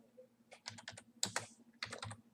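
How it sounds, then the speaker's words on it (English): Rapid clusters of key clicks from typing on a computer keyboard, close and fairly soft, coming in short irregular bursts with brief pauses between them and no talking. "I'm typing to a friend of mine"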